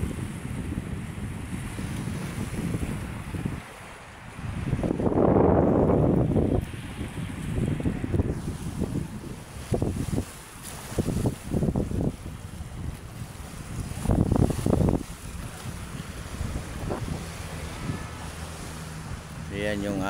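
Wind blowing over Manila Bay on an overcast day, a steady rushing roar with a loud buffeting gust on the microphone, heard under someone talking throughout.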